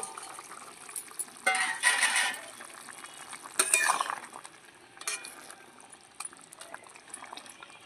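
Green tomato curry with baata fish simmers in a pot as pieces of already-fried fish are dropped in, giving soft bubbling with a few louder splashing, stirring bursts near the start and middle, then quieter clinks.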